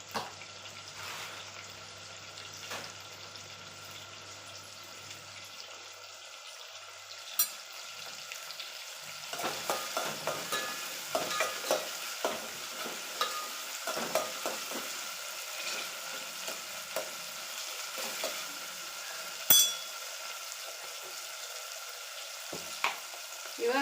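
Masala sizzles gently in a pan with intermittent scraping and clinking as it is stirred, a faint, close kitchen sound with irregular clatters.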